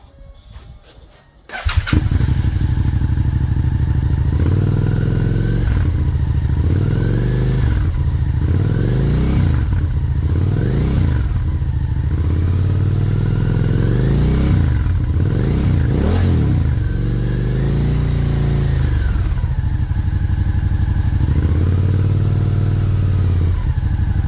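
A 2021 Suzuki SV650 motorcycle fitted with a Delkevic 450mm carbon oval silencer starts up after a brief clatter, then idles loudly with repeated sharp throttle blips rising and falling, close and alone.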